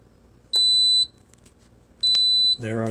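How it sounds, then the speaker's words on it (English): Two clear high electronic beeps from a PowerXL Grind & Go coffee maker signalling the brew is done, each about half a second and spaced well apart, near and loud, followed by a brief voice. "I'm expecting the beeps any second now here."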